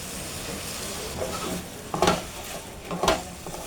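Boiled macaroni with cooked chicken and spices stirred in a pan over a low sizzle, with two distinct scraping clatters of a spoon against the pan, close and fairly loud.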